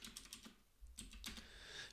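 Soft clicks of typing on a computer keyboard, a quick, irregular run of keystrokes heard close but quietly.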